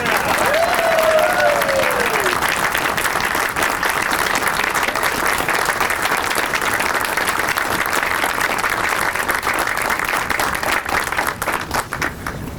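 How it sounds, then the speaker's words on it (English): An audience at a historical marker press conference bursts into sustained, loud clapping that holds evenly for the whole stretch, with a brief voice near the start. "Please help us give them a well-deserved round of applause"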